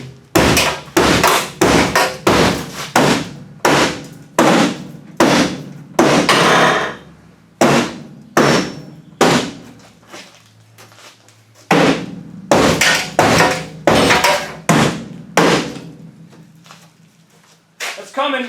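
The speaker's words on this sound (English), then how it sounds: "Let's get a hammer and pound on it for a bit." Hammer pounding on the frame of a Chevrolet HHR being pre-bent for a demolition derby build, sharp loud metallic strikes in rapid bursts with short pauses between series, close and ringing.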